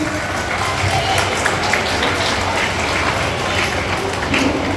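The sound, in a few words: audience applause welcoming guests at school event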